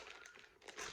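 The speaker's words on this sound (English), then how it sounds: "Little sealed plastic bag as well." A small sealed plastic bag of dried seeds is crinkled and handled close by, a quiet, uneven rustle with sharper crackles toward the end.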